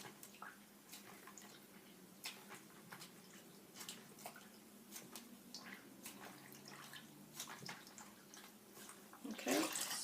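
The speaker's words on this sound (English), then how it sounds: "we're just going to squeeze the water out" Washed hand-dyed yarn is squeezed by hand to press out water, giving soft wet squishes and scattered drips, quiet and close, ending in a brief louder splash.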